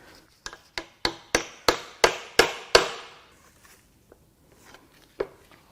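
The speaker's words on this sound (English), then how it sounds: "We're going to just use the hammer a little bit." A series of about nine sharp metallic hammer strikes in steady rhythm, each ringing briefly, followed by a pause and a few scattered lighter knocks, hammering on a part during teardown of a Jeep Ram 3.0 EcoDiesel engine.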